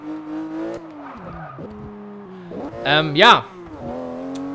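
A race car in the video game Forza Motorsport 6 drives into the pit lane. Its engine drones steadily with shifting pitch, then rises and revs sharply for a moment before settling back to a steady hum. A voice speaks briefly.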